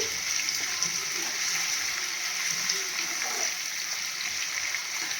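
Onions with ginger-garlic paste frying in a curry pan for chicken curry, a steady close hiss of sizzling oil throughout with faint stirring underneath and no talk.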